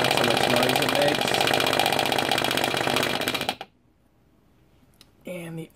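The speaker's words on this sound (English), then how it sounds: "when you power it up, that's how much noise it makes." An electric fuel pump, either a Facet or a BraveX, runs with a loud, steady mechanical buzz and rapid ticking for about three and a half seconds, then cuts off into near silence before a short separate sound at the end.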